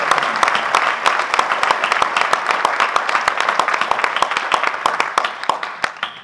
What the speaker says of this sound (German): Begrüßt bitte mit mir mit einem schönen Applaus Alain Moix.